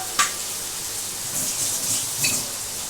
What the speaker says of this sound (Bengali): এই পুরো পনিরটি এর মধ্যে দিয়ে দেবো